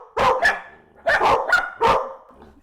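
A dog barks on command in three short, loud, close bursts, the last two coming in quick succession, with brief quiet gaps between them and no talking.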